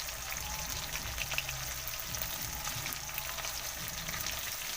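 Potato pieces frying in a pan with pork for an Assamese curry, a steady close sizzle with crackling spatter, continuous and even throughout.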